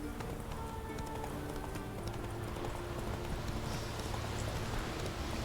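Roach the horse gallops in The Witcher 3, a steady rapid clip-clop of hooves that stays close and even throughout, with no talk.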